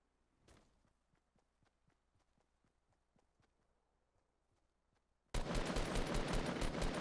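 Gunfire in the game Venturion starts as sparse, faint shots spaced through a quiet stretch, then breaks into a loud, dense roar of sustained fire.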